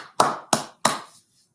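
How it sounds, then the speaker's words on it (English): Three crisp hand claps ring out close and loud, evenly spaced, each followed by a short decay into quiet. "Round of applause."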